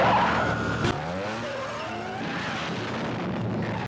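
A police motorcycle skids and crashes in a scene from the Jamaican film The Harder They Come: a sharp impact, then a long loud tire screech with engine noise that fades and cuts off abruptly.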